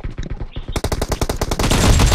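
Fast automatic rifle bursts in a PUBG Mobile arena deathmatch, loud and close, rattling in quick even succession and building into a dense continuous barrage.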